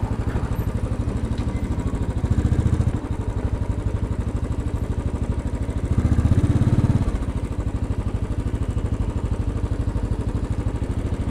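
Royal Enfield motorcycle riding through Times Square at rush hour at night, a steady mid-pitched engine drone with brief louder revs, close and continuous with no talk.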